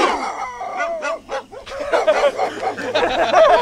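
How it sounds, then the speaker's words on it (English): Dogs bark repeatedly on a comedy film set, a rapid, overlapping run of yaps and barks, loud and fairly close, continuing throughout. "Those fucking dogs, I'm gonna shoot them."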